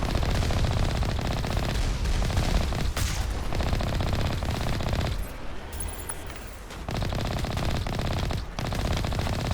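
Rapid, continuous automatic gunfire pours from the Mako vehicle's cannon in Mass Effect Legendary Edition, a loud, dense rattle broken by a brief lull midway before the firing resumes.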